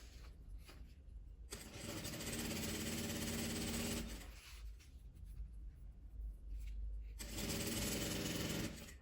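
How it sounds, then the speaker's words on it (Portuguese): Sewing machine stitching along the edge of folded satin ribbon for a scrunchie: three bursts of fast, whirring mechanical stitching separated by brief pauses, close and steady. "vou pegar essa fita de cetim, vou dobrar ela ao meio e costurar"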